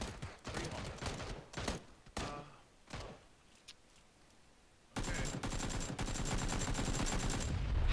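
Bursts of AK rifle fire in a PUBG match, loud and close, in ragged rapid volleys with short gaps and a denser, sustained stretch of shots toward the end.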